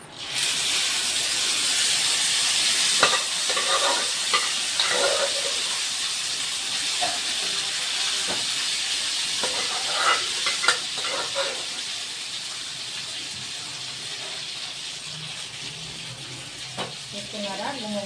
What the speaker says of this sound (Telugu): ఎండుమిర్చి చాలా ఫాస్ట్గా ఫ్రై అయిపోతుంది